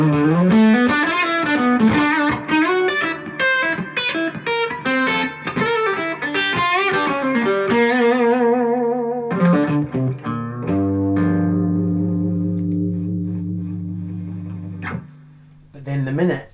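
An electric guitar played through a Tone City Kafir Lime overdrive pedal with gain at zero and volume raised, giving quick melodic runs and chords that end in long sustained, lightly driven notes, heard alone.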